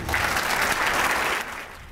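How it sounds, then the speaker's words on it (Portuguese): Luncheon audience applauding to welcome a female labor court minister, a dense burst of clapping from many hands that thins slightly toward the end. "recebam com um aplauso a nossa querida ministra Maria Cristina Peduzzi"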